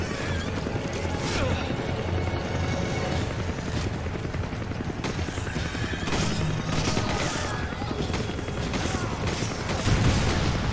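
Gunfire in the Resident Evil 5 video game, with repeated sharp shots scattered through dense, busy game noise, a helicopter nearby and a person talking over it.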